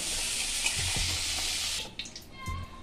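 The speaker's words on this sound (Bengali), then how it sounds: "আমি এগুলো সব দিয়ে একটু ভেজে নেব" Whole garlic cloves and ginger sizzle loudly in a hot pan, a dense steady hiss that cuts off partway through, leaving a few clinks and light scraping sounds.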